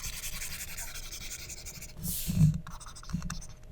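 Brief scrubbing of an eraser wiping writing from a board, a short rubbing burst followed by a fainter second swipe, quiet under a low room hum.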